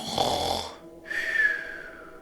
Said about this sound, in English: Bradley was snoring serenely